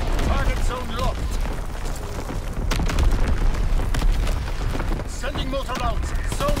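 Artillery barrage in Call of Duty, a steady run of booming blasts and scattered bursts under continuous battlefield din, with radio voices calling out orders over the top.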